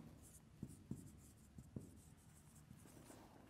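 Chalk tapping and scraping on a board in a classroom, several short faint strokes in a quiet room with a low background hum.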